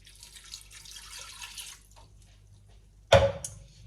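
Water poured into a cooking pot during batch cooking, heard as a soft trickle early on, then a sudden louder splash near the end, with no talking.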